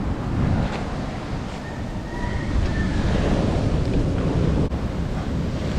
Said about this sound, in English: That's actually big waves for here, believe it or not.